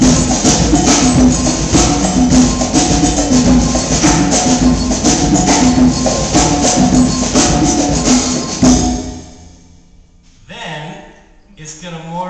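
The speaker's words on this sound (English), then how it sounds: "we're going to shift into more of a street samba, which is a little bit more similar to what you would hear on the streets of Rio de Janeiro" A steel drum band plays a street samba groove in the style heard on the streets of Rio de Janeiro, dense and loud with steady percussion, before cutting off near the end to a few scattered softer sounds.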